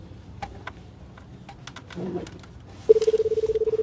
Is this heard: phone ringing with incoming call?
yes